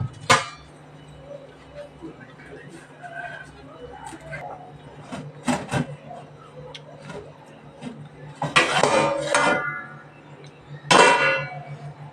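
Metal lid lifted off a pot of mutton biryani after resting off the stove, with scattered clanks and scraping clatters of the lid and utensils, near and fairly loud over a quiet kitchen background.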